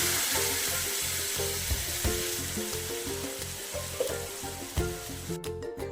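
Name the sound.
ground dal added to a hot pan, sizzling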